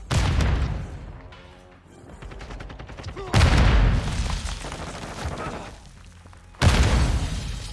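Grenade blasts and gunfire in a Call of Duty Modern Warfare 2 hardpoint match, three loud booming bursts with rattling shots between them, while in-game voices call out briefly.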